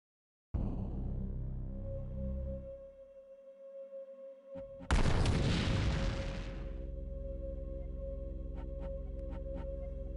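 Gunfire in the 1996 PC video game Realms of the Haunting: a loud boom of a shot erupts after a deep rumbling tone, then fades into a lingering hum with a few faint sharp clicks.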